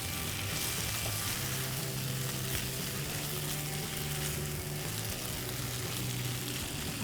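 Jain idli chilli with vinegar, coriander and a cornstarch slurry is stirred in a hot pan, giving a dense, continuous bubbling sizzle at an even level from start to finish.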